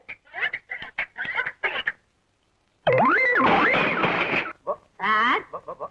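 Chickens being fed cluck and squawk in short, pitched bursts, with a long rising-and-falling squawk in the middle and a brief silent gap before it.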